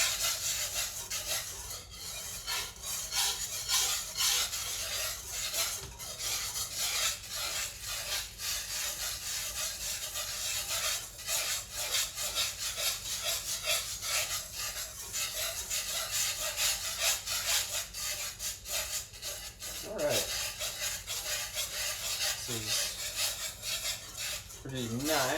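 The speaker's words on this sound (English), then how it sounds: "I am going to continue to whisk and stir this." A whisk scrapes and stirs cocoa in a pot in a steady rapid rhythm, with a continuous gritty rubbing and light metallic clinks, close up, with no talk.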